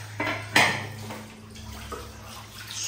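Tomatoes being washed in water in a metal pot, close clanks of the pot and soft sloshing, with a couple of sharper knocks early on and no talking.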